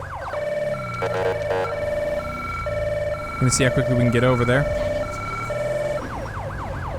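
Police car siren wailing in GTA 5 with the LSPDFR mod during a code 3 response, cycling steadily through the whole stretch, with someone talking over it.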